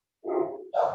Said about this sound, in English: my dogs hear the dog barking at the knit shop